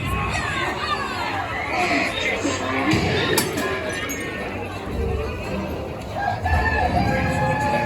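Hens cluck and a rooster crows amid a busy crowd, with people talking and chattering throughout, on the Pirates of the Caribbean ride at Magic Kingdom.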